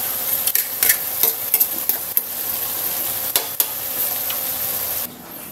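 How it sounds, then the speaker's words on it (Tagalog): Bean sprouts sautéing with mixed vegetables, oyster sauce and a little chicken in a pan, a loud sizzle broken by repeated sharp spatula clacks and scrapes, with no voices, before the sound drops off abruptly at the end. "Ginisa ko sa oyster sauce, mga iba't ibang klaseng gulay at konting sahog na chicken."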